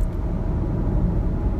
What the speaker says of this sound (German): So, ich gehe vom Gas, das Auto rollt